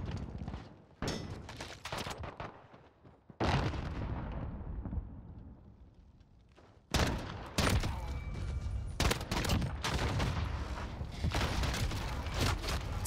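Desert Eagle pistol gunfire in Call of Duty: Modern Warfare, sharp loud shots and bursts that come in clusters with short gaps, ringing heavy booms between them, and no talking.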